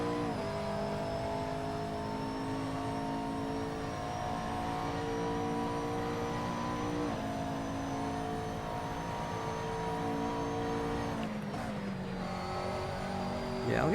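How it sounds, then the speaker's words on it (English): A simulated race car engine from a racing video game holds a sustained high whine, shifting pitch steadily as it accelerates through gears, with a brief dip near the end. "I could listen to this simulated engine note all night long."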